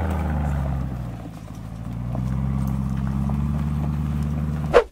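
A Lamborghini Urus SUV with a 650-horsepower twin-turbo V8 rolls through a forest off-road, its engine a steady low hum inside the cabin with faint clunks, ending in a short sharp knock.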